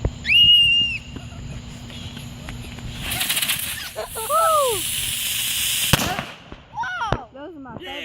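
Fireworks at a backyard show burst with crackling and a whistling rise, mid-distance and fairly loud, mixed with brief whistle tones and people's voices nearby.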